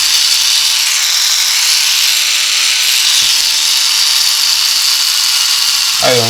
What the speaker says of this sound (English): this one is a small DC motor that works on 3 volts